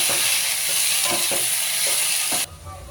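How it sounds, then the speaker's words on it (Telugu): Okra sizzles loudly in oil in a kadai, with a few scraping stirs breaking through the steady frying hiss before it drops away near the end. "బెండకాయ కడాయిలో పోతున్నామండి. ఈ కూరలు ఇట్లా వేసుకోవాలి కడాయిలోకి."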